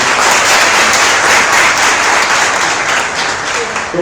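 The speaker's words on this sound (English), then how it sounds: "big clap for all of you" Loud, continuous clapping from an audience welcoming students at an alumni talk, dense and steady before tapering slightly at the end.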